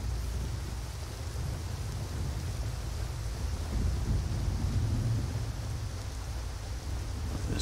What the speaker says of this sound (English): This rain is something else.